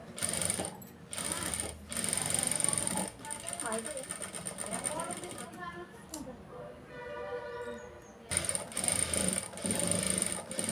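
A sewing machine stitches a blouse, its rapid mechanical whirr running in long bursts with brief pauses, close and fairly loud, while someone talks intermittently.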